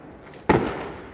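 A single loud firework burst on New Year's, a sharp boom with a crackling tail that fades slowly against a faint outdoor background.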